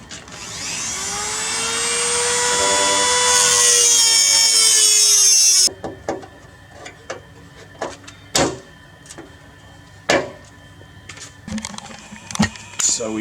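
A power tool cuts through a rusty metal panel on a Toyota Hilux with a loud, continuous high whine for about six seconds, then stops abruptly. Scattered clanks and knocks of metal being handled follow.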